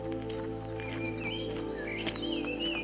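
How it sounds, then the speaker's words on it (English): Several birds chirp and sing in a lively chorus in Springwell Forest, their bright calls scattered across the clip over a steady low hum of distant traffic, with no talking. "A lot of birds. You can hear the birds here."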